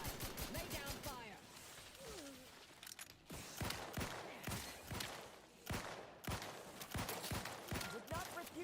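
Gunfire in the Outer Worlds 2 game: a rapid run of sharp shots opens, then irregular single and paired gunshots crack throughout amid whirring mechanical effects and a brief in-game voice.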